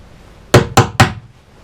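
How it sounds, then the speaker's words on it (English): Three loud, evenly spaced hammer blows drive a nail into a floor plank, each a sharp close thud with a brief ring, after a quiet start. "I'm just going to knock the original one in."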